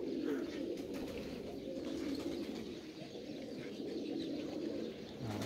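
Wide-tailed pigeons at a breeding loft give soft, steady cooing, a low continuous murmur heard fairly faintly with no talk.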